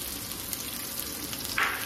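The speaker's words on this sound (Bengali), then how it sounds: "এদিকে তেলটা গরম হয়ে গেছে তো এর মধ্যে দিয়ে দেব জিরে আর তেজপাতা" Cumin seeds and bay leaves dropped into hot oil for a chicken curry, a soft continuous sizzle close by, fairly quiet, with a brief brighter hiss near the end.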